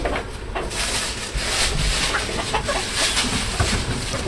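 Domestic chickens cluck repeatedly in a farmyard alongside ducks, a busy, close run of short calls continuing throughout with no talk.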